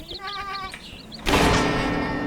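Sheep bleating in the horror video game Shaun.exe: a quick run of wavering bleats, then a second shorter pair, followed by a sudden loud burst of broadband noise.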